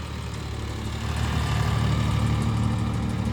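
A John Deere 5305 three-cylinder tractor of about 55 to 60 hp idles close by with a steady, low, even engine rumble that grows slightly louder partway through, with no talking over it.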